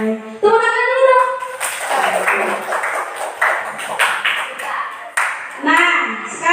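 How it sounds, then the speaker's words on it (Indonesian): A classroom of students claps for the top-scoring pupils in a science lesson. Short bursts of clapping come between stretches of the teacher talking, close and fairly loud, with a voice over the claps. "Tepuk tangan dulu dong."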